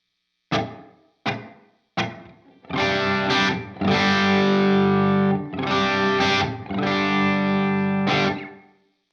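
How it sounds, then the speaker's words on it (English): A few dry plucked guitar notes, then sustained chords washed in heavy reverb and echo from a Strymon Iridium, each ringing out into a long, spacious tail. "So it's kind of a reverb effect, kind of a delay."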